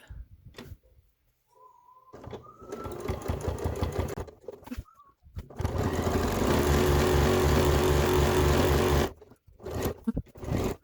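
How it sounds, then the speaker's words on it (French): A sewing machine stitches the handles of a reversible fabric tote bag, running in short bursts and then one long steady whirring run, close and loud, with brief pauses between passes. "On vient de coudre nos anses."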